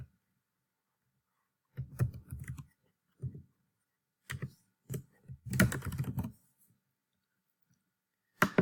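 Someone types on a computer keyboard while entering text into an Excel cell, with short bursts of close, quiet key clicks separated by pauses and no talking.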